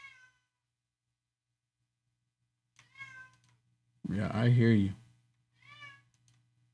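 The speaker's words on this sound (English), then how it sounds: "Can you hear my cat going off in here?" A house cat meows indoors, a short call, then a loud drawn-out meow, then another brief one, with a low steady hum underneath and a person speaking briefly in the room.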